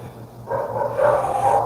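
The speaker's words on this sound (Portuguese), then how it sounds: "como vocês estão ouvindo o cachorro latindo" A nearby dog barks in a short burst of two or three yips after a moment of quiet, standing alone without talk.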